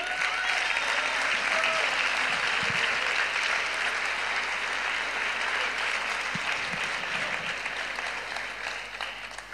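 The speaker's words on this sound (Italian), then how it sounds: "gli facciamo un grande applauso" Audience applause after a new song at a Sunday religious gathering, a loud, dense crowd clapping that holds steady for nearly ten seconds before easing slightly at the end.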